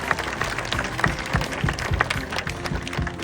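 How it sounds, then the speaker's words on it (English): An audience applauds at a bird show, steady scattered clapping, moderately loud and continuous throughout, with a few louder individual claps standing out. "Let's give her a big round of applause for that,"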